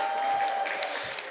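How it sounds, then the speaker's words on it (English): A brief burst of audience applause for John at a live business talk, a short, even patter of clapping with no voices over it. "round of applause for John"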